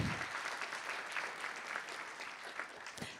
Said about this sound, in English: thank y'all for giving a warm round of applause for that